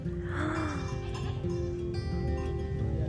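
Goats bleat near the Chinese border in Ha Giang, Vietnam, a few close, wavering cries over a steady background of outdoor noise.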